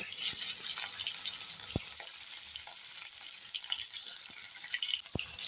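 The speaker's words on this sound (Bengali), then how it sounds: "এখন মাছগুলো দিয়ে ভালো করে লাল লাল করে ভেজে নেব" Constant crackling sizzle of tilapia frying in oil, close and steady, with a few sharp pops and taps scattered throughout.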